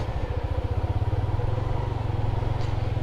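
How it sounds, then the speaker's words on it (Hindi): A motorcycle is ridden slowly to a parking spot near Manthoka Waterfall in Kharmang, its engine putting close and steady with a rapid, even low pulse. "इधर अभी कहीं बाइक पार्क करते हैं"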